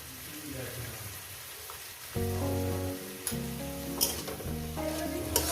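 Coconut-stuffed snake gourd frying in a pan: a soft sizzle that swells louder after a couple of seconds, with a few sharp crackling pops and clinks over a steady hiss, close by.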